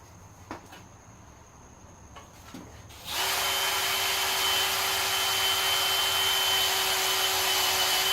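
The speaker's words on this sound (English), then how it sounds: "the more I can control the bit, the less likely I am to punch a hole in the timing cover" A drill bit bores into the timing cover of a '51 Chevy engine, a steady high whine starting abruptly after a quieter stretch of faint clicks and sustaining loud and continuous to the end.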